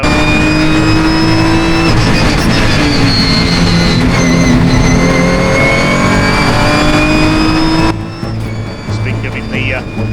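Ginetta race car in Britcar Endurance racing at Donington Park, a loud engine with rising, shifting tones as the car passes close, under steady commentary that runs throughout.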